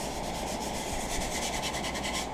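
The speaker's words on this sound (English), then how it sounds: "Taking some rough sandpaper, I'm just roughing the bottom just a little bit" Rough sandpaper rubbed by hand across the bottom of a part during a 4x36 Porter Cable sander repair, a steady, continuous close-up scratching with fast back-and-forth strokes and no talking.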